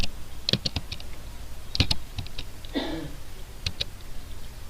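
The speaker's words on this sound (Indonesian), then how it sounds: "Atribut pertama itu kita ketik ID karyawan" Close computer keyboard typing of an attribute name in a database design tool: scattered crisp key taps in small clusters with brief pauses, plus one soft rustling sweep midway, no speech.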